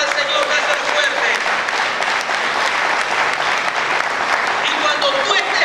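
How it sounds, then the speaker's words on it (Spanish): A church congregation claps hard and continuously during a Sunday sermon, a dense, loud wash of applause with voices mixed in from the crowd. "Si va a aplaudir al Señor, dáselo fuerte."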